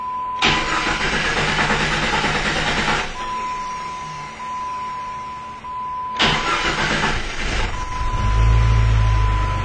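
2004 Jeep Cherokee with a cam/crank sensor fault code, engine cranking in two long loud bursts, with a steady chime tone running underneath, before the engine catches and idles low at the end.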